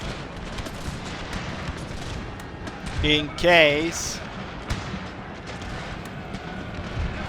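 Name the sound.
cannon artillery fire in Total War video game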